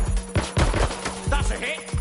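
Rapid bursts of gunfire in the video game Watch Dogs Legion, loud, close automatic shots in quick succession with brief shouting mixed in.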